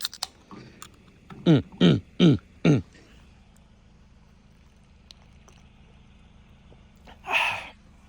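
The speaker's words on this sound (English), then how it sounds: "You're going to be hearing burps the rest of this video." Four loud, deep burps in quick succession after drinking a high performance energy drink in a garage, followed by a brief breathy sound and quiet room ambience.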